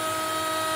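A CNC machine carving at 200 lines per inch with a full 1/8-inch depth plunge, giving a loud, steady high-pitched whine that holds unbroken throughout the short stretch.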